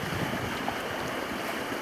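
Wind rushes steadily in a broad, unbroken roar, buffeting close to the microphone, pushing the vane of a boat's wind-vane self-steering gear.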